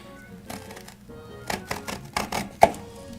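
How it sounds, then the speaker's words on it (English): Scissors cut open a package of Gogo's Crazy Bones with a run of crisp snips and clicks in quick bursts, close and fairly quiet, and no talking. "It's a bit hard to open with scissors"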